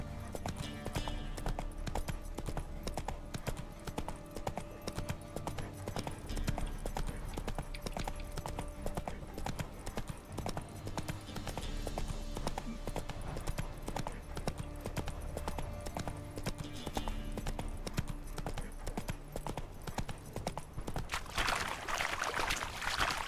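Horse galloping in the video game Witcher 3: Wild Hunt, a steady rapid clip-clop of hooves running on without pause, mid-loud and close, joined by a brief rush of water-like noise near the end.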